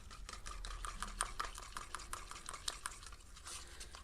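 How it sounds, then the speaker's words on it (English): Thinned acrylic paint mixed with silicone for a negative pour, stirred in a cup, giving faint rapid scraping and clinking strokes in a steady rhythm with no talking. "Stir it right in there."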